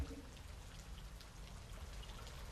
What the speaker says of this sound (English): And the rain is coming.